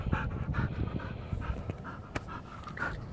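A trained gun dog panting hard after an obedience exercise, rapid rhythmic breaths close by, steady and moderately loud with no talking.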